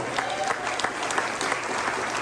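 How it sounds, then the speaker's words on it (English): A neighborhood association mayoral debate audience claps in a steady, dense round of applause that fills the room evenly at moderate loudness for a couple of seconds. "Can I get a round of applause for that?"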